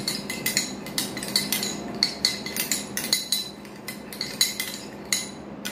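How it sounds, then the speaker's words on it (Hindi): A spoon clinking against a bowl while coconut oil is stirred, quick metallic taps in an uneven rhythm, close and fairly quiet, with no talking. "देखंतु याकू मिसै नबा महू आ नड़िया तेल को।"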